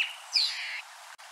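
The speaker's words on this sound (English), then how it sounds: "the alpha female of the mongoose group will give a let's go call," Dwarf mongoose alpha female giving a let's-go call to set her group off foraging, heard as a single faint, high, thin chirping call with a short rising note, quiet and alone with no talk.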